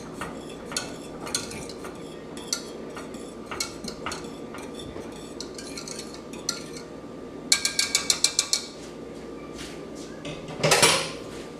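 Vegan banana pudding whisked in a pot, light metal taps and scrapes scattered through steady background noise, then a quick rattling burst of whisk strokes and a brief louder clatter near the end.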